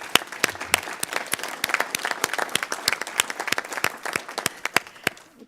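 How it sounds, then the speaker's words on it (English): Steady audience applause for presenters at a board offsite meeting, a dense run of many hands clapping at moderate distance, sustained evenly with sharp individual claps standing out. "give today's presenters a round of applause for their efforts"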